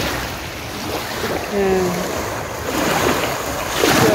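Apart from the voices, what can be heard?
ocean waves at a beach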